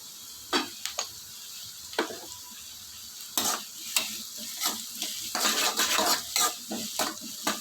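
Onions with salt sauté in a pan, a low sizzle broken by irregular scraping and clinking strokes of a spoon against the metal as they are stirred, close and fairly quiet.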